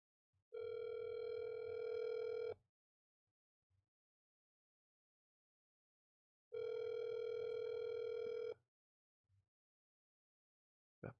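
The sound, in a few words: speakerphone call dial tone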